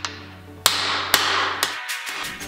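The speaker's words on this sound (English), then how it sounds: "use our driver and a hammer, and we're going to drive out the bearing, the front bearing" Hammer striking a driver to drive out the front balance shaft bearing of a Toyota 3RZ engine: four or five sharp metallic blows at even intervals, loud and close, ringing briefly, with no talking.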